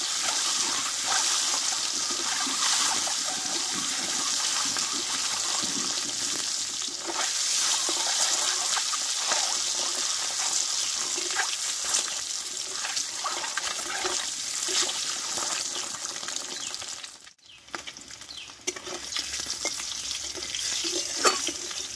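Eggs fry in hot oil with a loud, continuous crackling sizzle close to the pan, steady throughout, with a brief dip and a few stirring sounds near the end.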